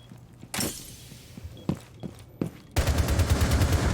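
Gunfire from a shooter video game rings out with a few sharp separate shots, followed by a dense, continuous burst of rapid automatic fire.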